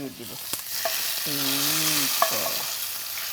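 Bottle gourd and chicken curry flavoured with garlic, stirred in a pan with the heat off: a steady frying hiss with a few spoon taps and scrapes and a brief squeaky tone in the middle.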